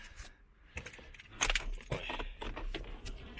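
A bunch of car keys for a Citroën C4 jangles and clinks in bursts close to the microphone, rattling irregularly over a quiet background.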